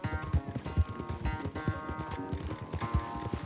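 A horse's hooves gallop fast in the Red Dead Redemption 2 video game, a quick, steady clip-clop rhythm, close and continuous, with no talk.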